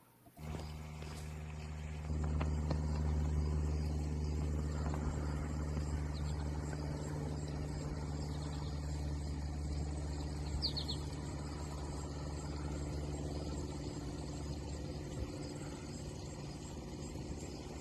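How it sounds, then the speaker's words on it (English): Small propeller plane droning steadily as it flies off, played back through a phone speaker; a low, continuous engine hum holds at even loudness throughout with no talking. "The sound that you heard was the little plane getting out of there."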